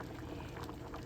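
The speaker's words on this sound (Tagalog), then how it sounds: "kumulo na siya" Sayote soup with corn, thickened, bubbling at a boil in a pot, a steady close simmering burble with no talk.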